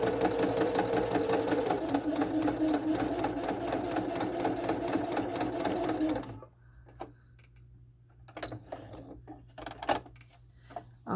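A sewing machine runs a steady, close gathering stitch for about six seconds, then stops, leaving faint handling clicks and rustles of fabric and thread.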